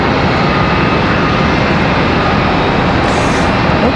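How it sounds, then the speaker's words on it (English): American Airlines flight 1419 from Fort Lauderdale passes by Charlotte Douglas airport as a loud, steady broadband jet roar that holds evenly through the whole stretch, with no voices over it. "That one right there, passing by, American Airlines 1419, coming in from Fort Lauderdale."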